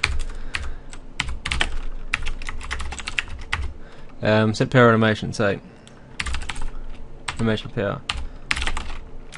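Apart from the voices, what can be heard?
typing on a computer keyboard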